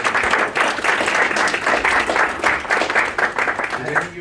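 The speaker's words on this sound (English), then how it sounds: "let's give you a round of applause" Applause rises at a town board meeting, a small crowd clapping steadily and fairly close for a few seconds with some voices mixed in.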